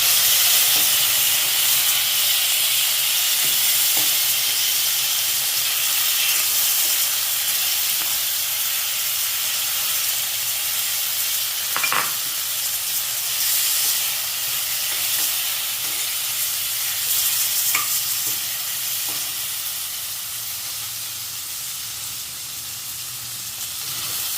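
Steady sizzling and hissing of tomatoes frying in a pan with browned onions, with occasional scraping stirs, continuous with no talking.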